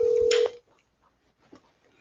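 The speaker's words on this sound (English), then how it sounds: "Let's get Devin on the phone here" A phone line dials out to a caller, with a loud, steady tone that cuts off sharply, followed by faint line noise and a soft click.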